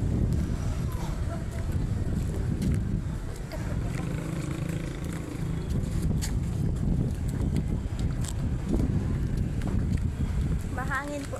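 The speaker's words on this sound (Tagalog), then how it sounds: "Mahangin po sa Pilipinas." Wind blowing outdoors in Bicol in the Philippines, a constant low rumbling buffet that fills the whole stretch, with faint scattered sounds in the background.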